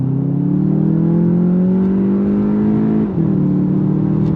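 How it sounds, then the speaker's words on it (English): A 2025 Volkswagen Jetta GLI pulls hard under throttle, its engine note climbing steadily, then a brief dip as the DSG dual-clutch gearbox snaps through a quick smooth upshift before the engine pulls on, close and loud from inside the cabin. "Nice smooth shifts from that DSG, that dual clutch transmission."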